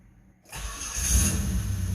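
A car engine cranks and catches after a short silence, then roars up and settles into a loud, steady run close by.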